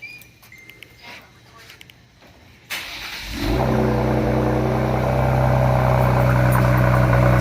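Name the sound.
Ford Explorer ST cold start with Thermal R&D 3-inch exhaust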